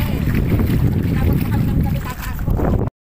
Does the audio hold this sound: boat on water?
yes